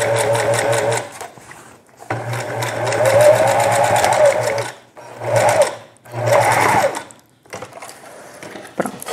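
A sewing machine topstitches fabric close to the edge for a mask and cushion set, running loud and steady in three bursts with short pauses between them.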